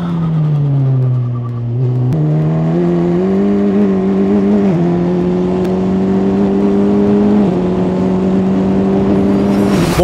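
An F4 single-seater race car engine, running at full power with its restrictor removed, drones loudly on track at speed, with steady tones that step up through several gear changes and no talking.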